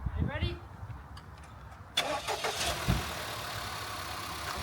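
Car engine cranking and catching after a new intake install, a broadband roar jumping in abruptly partway through and holding loud and steady, with people talking before it at an outdoor car meet.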